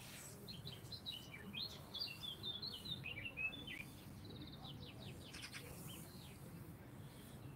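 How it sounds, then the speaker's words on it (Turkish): Morning birds chirp and tweet in short, scattered bursts at a moderate distance, light and intermittent over quiet background hiss. "Kuş sesleri."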